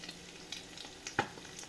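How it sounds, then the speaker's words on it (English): Eggs fry in plenty of butter in a cast iron pan, a soft low sizzle with a few light scraping knocks as they are moved around, one sharper clink near the end. "As you can see, I'm moving the eggs around."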